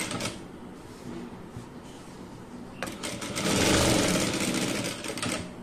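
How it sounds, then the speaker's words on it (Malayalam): Electric sewing machine stitching along the edge of a fabric piece, a steady close mechanical whirr that swells louder in a sustained run after a quieter start. "ഇനി നമുക്ക് ഇതിന്റെ ഈ സൈഡ് ഒന്ന് സ്റ്റിച്ച് ചെയ്ത് എടുക്കണം"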